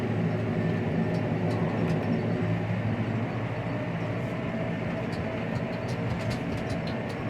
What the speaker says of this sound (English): There's a Pacific Railroad train just pulled up out here.